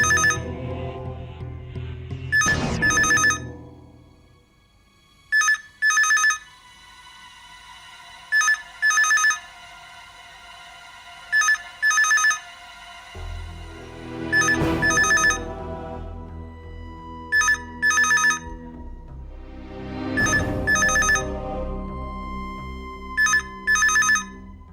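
A telephone rings in a suspense drama scene: bright electronic ring bursts repeat in pairs at regular gaps across the clip, loud and close over a low background music bed.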